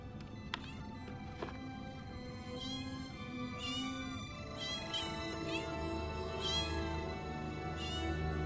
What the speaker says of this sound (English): It would appear that Spot has had her kittens.